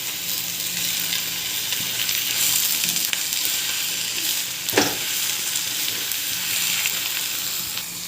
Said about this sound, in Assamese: এতিয়া মাছৰুমখিনি ভাজি আছোঁ।